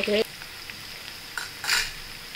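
Peanuts fry and sizzle in a pan on the stove, with a loud scrape or stir at the start and another near the end over a steady background hiss.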